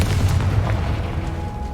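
Confringo fire spell blast in Hogwarts Legacy on PS5, a deep booming explosion rumble that decays over a second or so, no talk.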